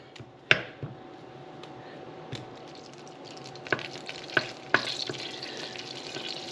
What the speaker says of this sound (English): our butter is almost melted here